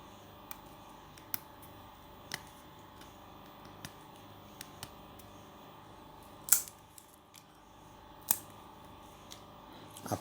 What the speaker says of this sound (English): I'm using my fingers to peel it